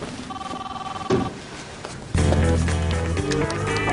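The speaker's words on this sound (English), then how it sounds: "Whose phone is that?" Telephone bell ringing in a scene, a repeated electronic trill that starts softly and then rises sharply in level over a musical background; no speech.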